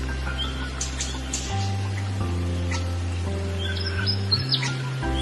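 A small bird chirps and sings in short bright bursts above a steady low droning tone that shifts pitch now and then.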